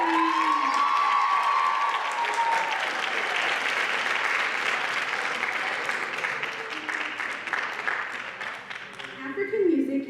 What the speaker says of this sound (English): One more round of applause for Tamia Dorsey